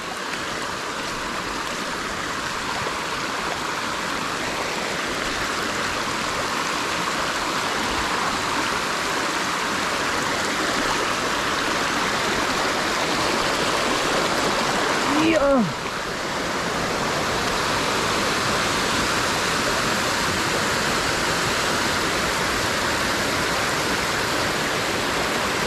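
River in Bulacan, Philippines, flowing steadily in a broad, constant rush of water close by, with a brief louder disturbance around the middle.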